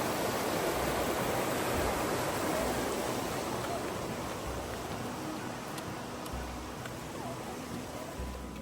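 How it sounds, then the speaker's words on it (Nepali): A large river flows on a family camping trip in North Wales, a broad and steady rushing wash that fills the whole stretch and stays constant throughout, with no voices. "हेर त खोला यत्रो ठुलो"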